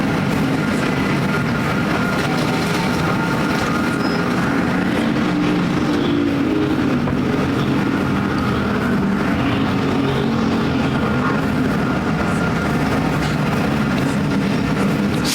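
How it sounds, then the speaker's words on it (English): American Factory Stock cars racing around Perris Auto Speedway, a constant loud roar of engines blended with crowd and track noise, sustained without break. "Stites, great run off turn number 2, goes to the inside of Kelly down the back chute"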